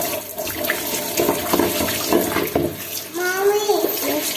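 Tap water runs steadily and splashes close by indoors, with a voice speaking over it toward the end.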